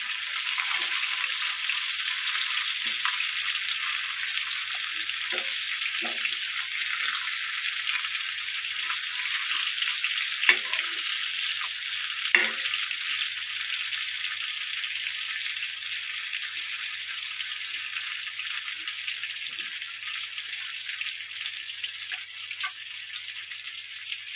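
Pomfret fish shallow-frying crisp in a pan over a low flame, a constant bright hissing sizzle with occasional soft pops and ticks.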